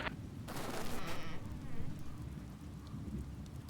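Steady rain in the video game Oxenfree, a dense continuous hiss that swells loudest in the first second and a half, with a soft low rumble beneath, then settles into a quieter, even downpour.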